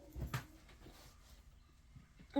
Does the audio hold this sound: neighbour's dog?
yes